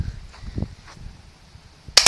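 A single sharp rifle shot cracks out near the end, loud and close after a quiet stretch of faint background rustle.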